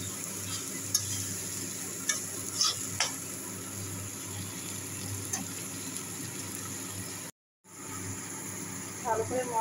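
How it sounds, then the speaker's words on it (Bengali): Masala for a jackfruit and potato curry sizzles steadily as it is stir-fried in oil in a pan, with scattered spatula scrapes. The sound drops out briefly near the end and then returns with a few louder clinks. "এখন ভালো করে কষিয়ে নিচ্ছি।"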